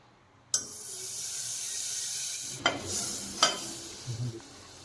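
Butter sizzles in a pan with a steady hiss starting abruptly, joined by a few sharp clinks and light utensil scrapes near the end; no talking.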